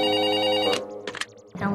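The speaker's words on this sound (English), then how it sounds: "The phone." A telephone bell rings loudly in a steady sustained tone that cuts off, followed by a few soft clatters and brief noises in a cartoon scene.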